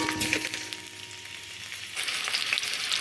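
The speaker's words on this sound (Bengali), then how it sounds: "আলুগুলো ভেজে নেব।" Diced potatoes fry in mustard oil in a wok with a continuous bright sizzle, dipping briefly in the middle and then swelling again, with no voices.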